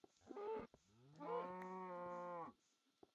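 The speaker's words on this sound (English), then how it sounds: "And we're gonna kill this cow." A cow in Minecraft lets out a short low moo and then a longer, drawn-out one. Both are close and clear against near silence.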